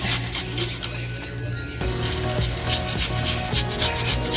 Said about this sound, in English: Now we're gonna take our 2 thumbs of ginger and I'm gonna grate